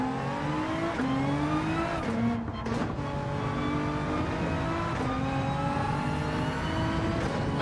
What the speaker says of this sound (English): It's probably getting drowned out by the engine.